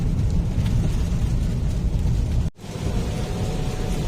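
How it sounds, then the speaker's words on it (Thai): Heavy rain from Typhoon Noru pours down in a dense, roaring wash, with a brief break before the downpour resumes just as strongly. "ฝนตกกระหน่ำเลยครับ"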